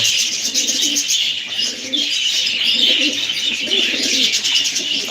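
Domestic pigeons in a loft or aviary coo steadily and softly throughout, with occasional light chirps mixed in and no talking.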